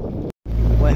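A narrowboat running at full throttle across open water, a loud low engine rumble mixed with wind buffeting, cut by a brief dropout partway through.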